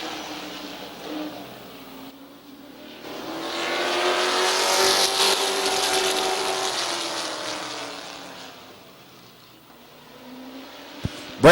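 Stock race cars roar past at Midvale Speedway, a pack of engines swelling from distant to loud as they sweep by, then fading away, with a sharp knock near the end and no talk.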